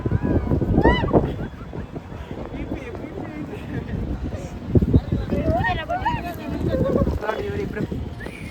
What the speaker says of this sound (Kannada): ತಣ್ಣ ಗಾಳಿ ಬೀಸ್ತಾ ಇರೋದು.